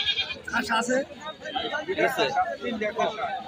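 Goats bleat at a busy cattle market in Tangail, Bangladesh, their cries mixed into constant nearby talk and crowd chatter.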